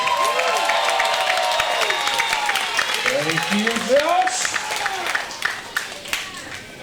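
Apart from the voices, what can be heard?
crowd cheering and applauding at a wrestling event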